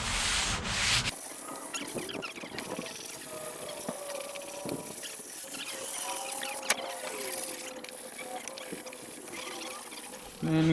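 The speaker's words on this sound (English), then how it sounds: "I'm just going to hand sand it" A wooden table is hand-sanded with 220–320 grit sandpaper, producing close, continuous rasping strokes in a steady back-and-forth rhythm with occasional sharper scrapes.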